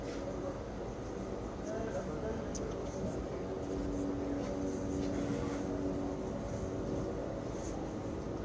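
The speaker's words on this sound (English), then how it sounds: "Uh-oh, I hear a plane." An airplane passing overhead, a steady low drone that holds throughout at a moderate distance, with voices talking over it.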